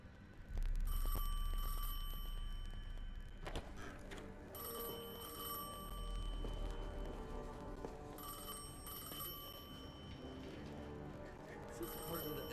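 A telephone rings in the Destiny 2 video game, repeated electronic bell bursts in a steady pattern with pauses between, moderately loud over a low background rumble.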